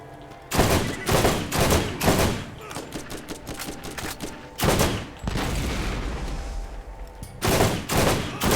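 Rapid bursts of gunfire in the Borderlands video game, loud and close, with sharp volleys repeating through the stretch and a sustained rattle between the heaviest blasts.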